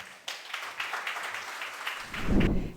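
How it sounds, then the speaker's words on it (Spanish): Audience applause at a lecture on Okinawan textile design, with a brief light patter of clapping in a hall before a low thump and rustle near the microphone as the speaker arrives. "Un fuerte aplauso para recibirlo."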